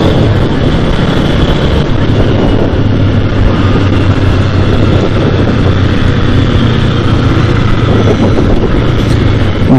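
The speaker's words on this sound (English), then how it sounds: "The engine is very smooth compared to the previous generation Apaches." A TVS Apache RTR 160 4V motorcycle engine while riding, a loud, steady drone mixed with heavy wind buffeting, recorded close up on the moving bike.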